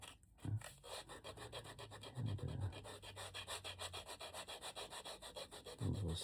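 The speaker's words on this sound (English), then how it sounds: "go ahead and sand this. Give you a little leather ASMR this evening" Steady, rhythmic rasping strokes of sandpaper on leather for a mini wallet, close and quiet, with even back-and-forth scrubbing and no talk.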